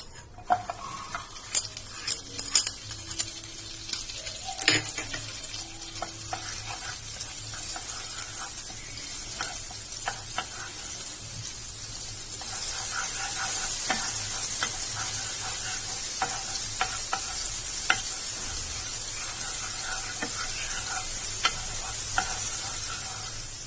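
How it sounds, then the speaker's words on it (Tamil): Butter sizzling in a heated pan while being stirred, with steady frying crackle, scraping and clinking strokes near the start, and the sizzle swelling louder midway, no talking. "இப்போ நம்ம பட்டர் ஆட் பண்ணிக்கலாம்."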